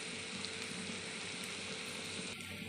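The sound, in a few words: frying food with chili, turmeric, cumin and coriander powder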